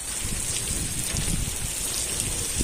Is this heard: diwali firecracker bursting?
no